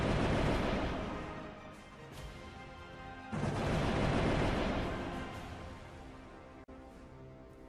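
Long-range cannons fire in an artillery sound effect, two long, heavy booming rumbles that swell and slowly decay one after another, loud and close.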